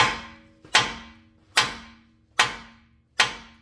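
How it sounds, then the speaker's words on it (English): A hefty hammer strikes a 2019 Chevy Trax AWD wheel spindle four times in a steady rhythm, each a sharp, loud metallic clang with a ringing decay, near and alone. "pretty hefty hammer like Mr. Sluggo, and then just hit right here on the spindle"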